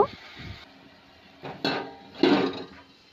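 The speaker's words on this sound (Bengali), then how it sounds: "এবার গ্যাসের ফ্লেমটাকে লো দিয়ে এটাকে একটু ঢেকে দেব।" Metal lid set down on a cooking pot over a low gas flame, giving a few short clanks and knocks close by, with quiet kitchen background between them.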